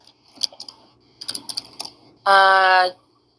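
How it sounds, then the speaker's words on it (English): Several quick clusters of keystrokes tapped on a computer keyboard, close and crisp, followed by a short loud tonal burst. "As you're typing away."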